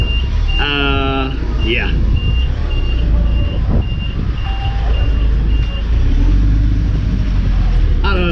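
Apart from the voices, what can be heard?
truck reversing nearby with beeping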